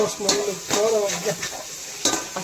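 Ginger and garlic sautéing in hot oil in a pot for plain biryani, with a close, steady sizzle and repeated scraping strokes of a stirring spoon against the pan.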